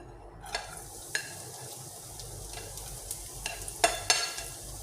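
Chopped onion dropped into hot oil in a pan, sizzling and frying with a few sharp stirring clinks and scrapes of a utensil, close and steady, no talking.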